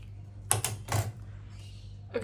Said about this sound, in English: Cut the strip I need, but I'm gonna round off the edges to prevent it from peeling